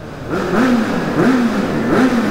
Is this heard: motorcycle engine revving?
yes